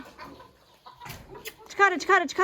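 Chickens cluck nearby with a series of rising, clipped calls that grow louder toward the end, mixed with people talking.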